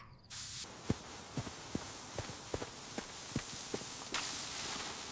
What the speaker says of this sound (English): It's the sprinklers!